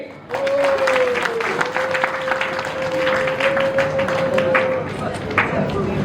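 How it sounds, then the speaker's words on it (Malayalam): A crowd applauds steadily for several seconds at a book launch at the Sharjah International Book Fair, with a thin steady whine running through the clapping and voices mixed in. "എല്ലാവരും കൈയടി"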